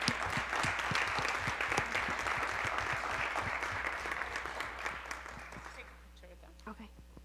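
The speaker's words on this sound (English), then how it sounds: "So you guys should give your parents a huge round of applause." Audience applause at a board of education meeting, with sharp individual claps over a steady wash that fades out near the end, leaving a low hum.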